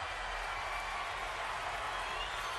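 Boxing arena crowd at a Terence Crawford vs Viktor Postol fight, a steady, distant wash of cheering and applause that holds evenly throughout without standout peaks.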